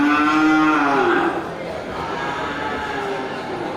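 A crossbred Aceh cow in heat lets out a loud, drawn-out moo close by, followed by a quieter second call amid faint background murmur.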